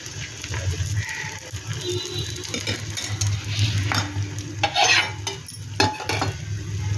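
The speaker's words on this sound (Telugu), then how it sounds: "ఆయిల్ వేసుకొని ఫస్ట్ ఆయిల్ కాగిన తర్వాత ఇలా కొంచెం కొంచెంగా వేసుకుంటూ ఉండాలి." Spoonfuls of ponganalu batter dropped into hot oil in a pan, a close, steady sizzle and bubbling with intermittent metal utensil scrapes and clinks.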